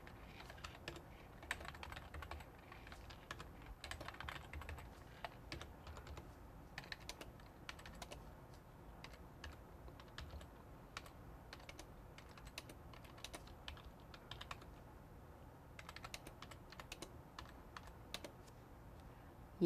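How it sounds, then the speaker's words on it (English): Fingers type data into a spreadsheet on a computer keyboard, a soft, steady patter of key clicks with uneven rhythm and occasional sharper taps, close but quiet, with no talking. "type in your data"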